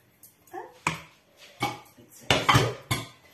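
Salt cod brandade being mixed into mashed potato in a bowl: a handful of distinct clinks and scrapes of a utensil against the dish, spaced irregularly, close and moderately loud.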